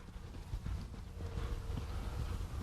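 Horse hooves clip-clopping on an arena surface during a riding lesson, soft repeated steps at moderate distance under a steady background hiss.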